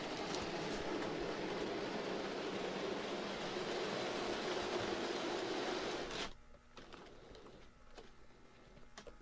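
A Hornby OO scale model train runs along the track, giving a steady close rumbling whir for several seconds before it cuts off, leaving only faint clicks and quiet room sound.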